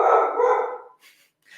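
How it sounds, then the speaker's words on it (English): A dog barks from a short distance: one long, loud bark, then two shorter, fainter yips trailing off, with no talking over it. "Of course, the dog starts barking in the middle of my talk."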